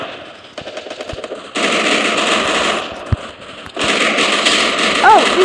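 Rapid automatic gunfire in the Free Fire video game, a ranked clash-squad match, with sustained bursts of close, crackling machine-gun fire broken by short pauses, and a player talking over it.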